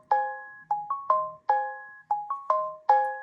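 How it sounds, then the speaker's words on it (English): Samsung Galaxy S25 Ultra notification tone: a short, clean melodic chime pattern repeated several times in quick rhythmic bursts, clear and close with no talking. "And not forgetting the notification sound."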